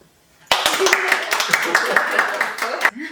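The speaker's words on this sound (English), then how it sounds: "Clap to him, okay?" A small group claps at a home birthday celebration, sharp uneven hand claps starting abruptly and continuing for a couple of seconds under people talking and calling out, then stopping.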